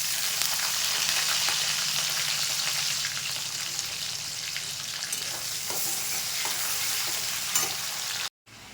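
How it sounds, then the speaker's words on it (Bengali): Whole spices and chopped onion hit hot oil in a pan, a loud, dense, steady sizzle with occasional stirring taps, cutting off abruptly near the end. "এই তেলে আমি গোটা মশলাটা দিয়ে দিচ্ছি, পেঁয়াজ কুচিটা দিয়ে দিচ্ছি"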